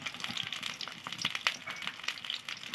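Onions and green chillies frying in hot oil in a small home kitchen, a steady close crackling sizzle with bright spitting pops throughout, no voices.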